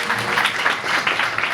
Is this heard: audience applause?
yes